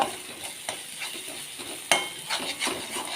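Crushed spices sauté in a hot pan for egg curry, with a soft continuous sizzle under repeated scraping stirs and one sharper clink of the utensil partway through.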